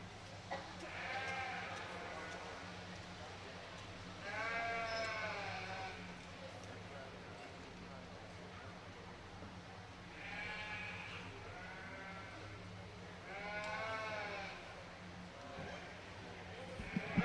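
Southdown ewes born in January bleating in a livestock show ring, several distinct wavering bleats at moderate distance over a steady low hum, with an announcer's voice heard in places.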